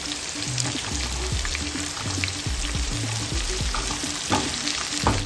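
Sliced onions frying in hot oil with long-cut green chillies and curry leaves, a steady sizzle with repeated scraping stirs of a spatula against the pan, close and loud.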